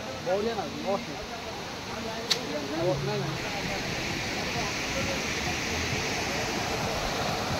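Steady, broad rush of a waterfall at Mahendragiri hill, with voices chatting briefly at the start before the continuous roar of falling water fills the rest.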